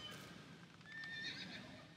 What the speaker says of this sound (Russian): и кони ржут